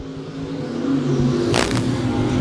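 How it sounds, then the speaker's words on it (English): Stock cars at I-35 Speedway roar together as a dense engine rumble that swells steadily louder, with a brief high whine sweeping past partway through. "Green flag is out and we are racing at I-35 Speedway."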